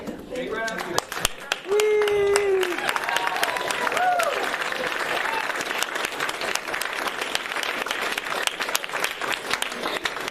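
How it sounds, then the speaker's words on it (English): Audience applause at an annual magic show: after a few seconds of voices and a whistle-like tone, a loud, sustained crowd of hands clapping fills the room, continuing steadily to the end. "Big round of applause."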